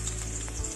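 Oil sizzling and crackling steadily in a pan as garlic fries for a Filipino ampalaya and salmon dish, a constant close hiss with no pauses.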